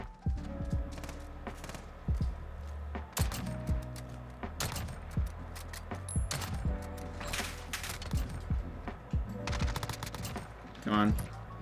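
Kar98k bolt-action rifle shots in Modern Warfare ring out in sharp, loud cracks spaced a second or two apart, amid other gunfire and match noise, while a player speaks over the action.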